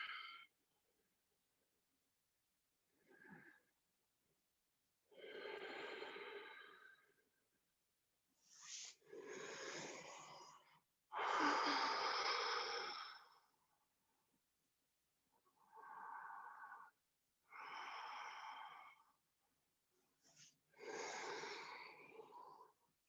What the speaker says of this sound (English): Do one more round on your own breath, whatever feels good with your breath, just really focusing on that Ujjayi breath